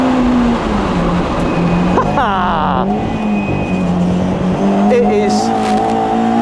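A Lotus Elan 26R race car drives hard on a track, its engine droning steadily with pitch sweeps through gear changes and a brief high whine, while someone talks over it.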